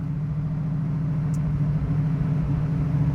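A 1971 Chevrolet Camaro cruising on the road, its engine a steady low rumble under the cabin with constant road noise and no voices.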